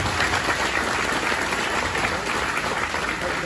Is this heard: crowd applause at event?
yes